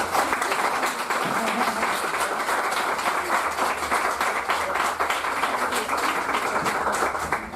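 Sustained audience applause at a roundtable discussion on Brazil's election, a dense, steady patter of many hands clapping at close range throughout, with faint murmuring under it.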